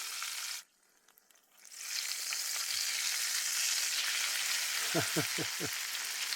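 Oil sizzles and crackles steadily in a close-up hiss as cinnamon rolls deep fry outdoors in the desert, briefly dipping quiet, then returning with a few soft splashes near the end.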